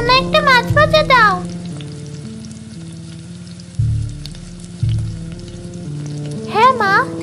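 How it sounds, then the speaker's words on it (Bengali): Fish frying in oil in a home kitchen, a steady hiss under background music, with voices talking at the start and again near the end. "শোনো, এবার ভালো করে বাকি মাছগুলো ভেজে ফেলো।"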